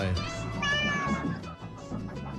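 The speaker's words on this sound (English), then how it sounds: "There's a cat in the studio?" Cat meowing inside a radio studio, a few drawn-out, wavering meows close to the microphone, with people talking over and around the cries.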